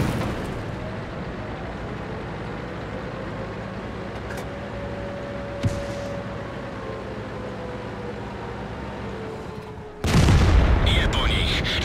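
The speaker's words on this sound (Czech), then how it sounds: "Nepřátelský tank zničen." A tank blown up in World of Tanks: a sudden heavy explosion bursts in near the end after a long stretch of low engine rumble and faint distant booms, with a voice speaking.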